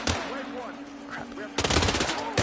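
Rapid automatic gunfire in Hitman VR, a loud burst at the start, quieter sporadic shots and voices, then another dense close volley near the end.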